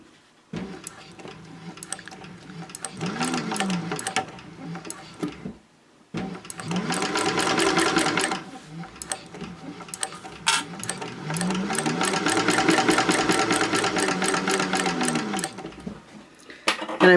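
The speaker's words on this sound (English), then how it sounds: "Now I'm sewing the seam on the other side" A domestic sewing machine stitches a seam on a fabric caddy in bursts, its rapid motor whir starting and stopping several times, with a short pause near the middle and longer continuous runs toward the end.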